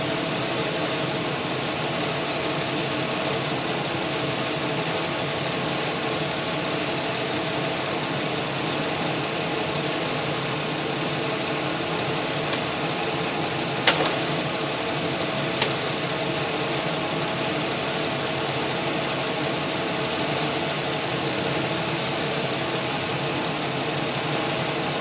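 A 3.1 or 3.4 liter car engine idles steadily throughout with a continuous low rumble and a faint vibration, apart from one brief metallic tick near the middle, with no voices over it.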